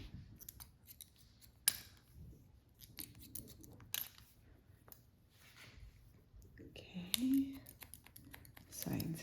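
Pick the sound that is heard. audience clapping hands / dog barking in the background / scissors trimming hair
scissors trimming hair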